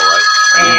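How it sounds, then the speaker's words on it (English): Telephone ringing with an incoming call during a radio podcast broadcast, a short electronic ring with steady high tones, loud and close. "And we got a call."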